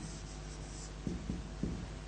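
A pen scratches across paper during an Arabic language lesson, giving soft faint strokes with a few sharper taps, low in level against a steady background hiss.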